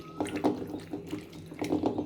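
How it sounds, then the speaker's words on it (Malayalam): Water is poured into a pan of mutton liver fry, giving a splashing, trickling pour in short bursts, close and fairly quiet, with no voices. "ഇനി നമുക്ക് അല്പം വെള്ളം അതിലേക്ക് നമുക്ക് ഒഴിച്ചു കൊടുക്കാം."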